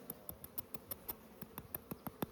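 Honeybees drawn to the blood of a steer carcass during home butchering, a faint, close buzzing with repeated short flybys swelling and fading, growing louder and nearer toward the end.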